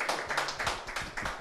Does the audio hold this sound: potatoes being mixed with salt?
no